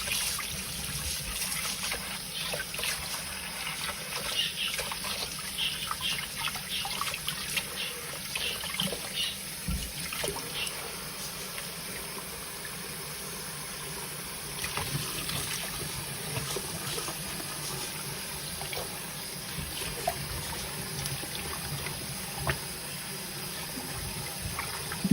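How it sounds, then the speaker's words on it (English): Fish being rinsed under running water, a continuous hiss of flowing tap water with irregular splashes and trickles, steady and close throughout. "Now we're rinsing it."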